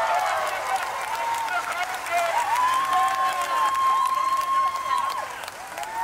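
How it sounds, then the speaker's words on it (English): Crowd applause at SeaWorld, a continuous dense patter of clapping mixed with cheers and loose crowd noise, with voices audible underneath throughout. "the large man getting applauded for his efforts"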